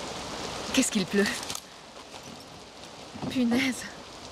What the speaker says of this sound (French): Qu'est-ce qu'il pleut?